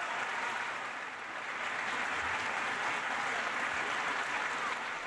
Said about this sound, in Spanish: Con esta cerrada ovación, los asistentes al Teatro Colón en el centro de Bogotá celebraron